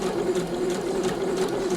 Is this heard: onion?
no